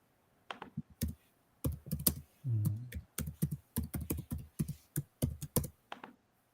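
Keys on a computer keyboard clatter close by in quick irregular bursts of taps, with short pauses between words and one heavier thud midway, in a quiet room with no voices.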